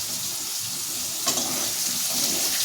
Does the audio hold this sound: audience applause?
no